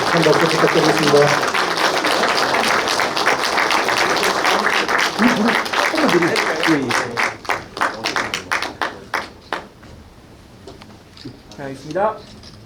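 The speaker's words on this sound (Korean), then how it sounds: "한 박수 부탁드리겠습니다." Audience applause at a Korean county governor's New Year visit to a township office, dense clapping from a crowd that thins out into scattered individual claps near the end, heard under some talk and music.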